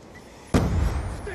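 A frag grenade goes off in the Black Ops 2 shooter game, one sudden loud blast followed by a rumbling tail that lingers to the end.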